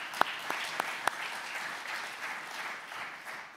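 Audience applause for conference sponsors at a closing session, a steady wash of many clapping hands with a few sharp nearby claps standing out early, moderately loud and sustained throughout with no talk over it.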